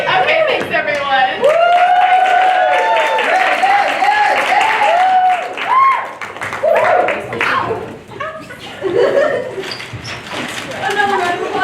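Audience applause at a live-streamed theatre intensive showcase, clapping running throughout beneath voices and cheerful shouts, swelling and dipping over several seconds.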